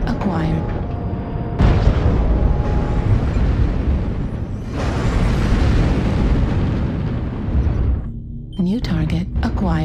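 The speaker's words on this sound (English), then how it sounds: "Artillery strike online." Artillery strike explosions in the MechWarrior Online video game roll out as loud, sustained booming blasts over about ten seconds, ending with short sharp bursts.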